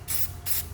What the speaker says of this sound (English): take you some kind of spray paint. This is just primer. Just spray this thing.